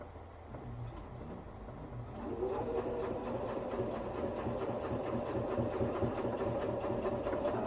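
A home sewing machine stitches a quilted duffel bag: a quieter start, then from about two seconds a steady, close, rapid mechanical chatter of needle strokes that runs evenly to the end, with no talking.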